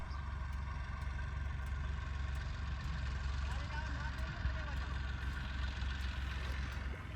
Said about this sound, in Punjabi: ਇਧਰ ਬਾਈ ਇੱਕ ਟਰੈਕਟਰ ਨਾਲ ਕਣਕ ਬੀਜੀ ਜਾਂਦਾ